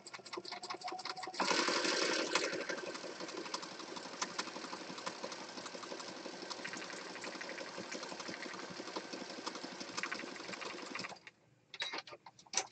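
An electronic sewing machine runs a continuous fast stitch across thin fabric, a steady close whirring buzz that stops abruptly near the end, followed by a few short bursts.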